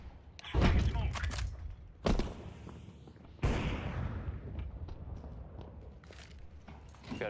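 Grenade, incendiary and flashbang blasts in a shooter video game land as three separate heavy thuds with rumbling tails, loud and punchy against a low, busy background.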